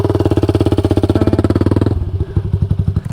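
A Honda CRF250L dirt bike engine chugs loudly and close on a steep hill, thumping in a fast even rhythm that drops to a lower, rougher idle-like pulse partway through.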